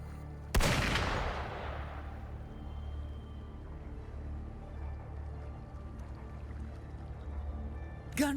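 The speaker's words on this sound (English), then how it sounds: "Gunfire! We've got intruders." In the video game Wuthering Waves, a single sharp gunshot cracks out near the start, then a low rumbling ambience lingers with faint scattered clicks and another burst at the very end.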